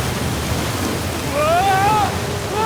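A waterfall in the video game Uncharted 4, heard as a steady rushing roar throughout, with a character's raised voice calling out over it.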